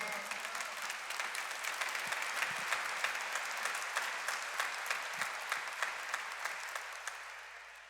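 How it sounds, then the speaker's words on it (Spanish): Steady applause from a church congregation honoring the Lord, dense and sustained clapping throughout with a few louder claps standing out, no voices on top. "Denle un aplauso fuerte al Señor."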